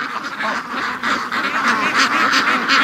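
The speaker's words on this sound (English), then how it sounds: "Seems right here is the only place the ducks like to be." Free-range ducks quacking close by in a rapid, overlapping series of loud, nasal calls that continue throughout.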